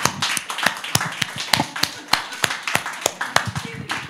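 A church congregation claps in a loose, sharp, uneven rhythm, with distinct individual claps standing out over a softer layer of hands. There are faint voices in the background.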